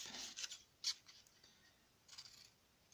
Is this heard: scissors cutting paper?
yes